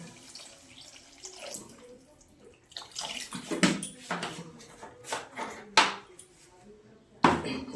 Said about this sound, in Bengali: এবার জল দেব, খুব বেশি জল দেওয়া যাবে না